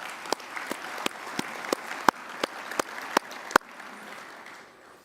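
Sparse applause for Lockheed Martin at a naval conference keynote: a slow handful of distinct, sharp claps spaced about a third of a second apart over a quiet room, stopping abruptly before the end.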